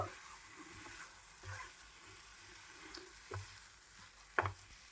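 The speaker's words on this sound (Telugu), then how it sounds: "బెల్లం వాటర్ అయితే పోసుకుని ఇదంతా ఒకసారి అయితే మనం లడ్డు చేసుకోవడానికి వచ్చేలాగా కలుపుకోవాలి." Poha mixed with jaggery water for laddu is stirred in a pan, producing faint soft scraping and wet stirring sounds with a couple of sharper spoon taps near the end.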